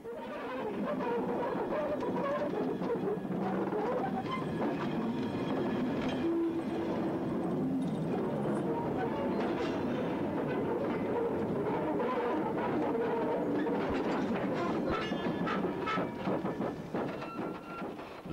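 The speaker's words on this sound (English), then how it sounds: "Even the sound of wheel running on rail in the classic age was different." A steam train rumbles along at a steady pace on jointed rails bolted to wooden sleepers, wheels clattering with a continuous rolling roar and occasional metallic clicks, heard from on board or close by.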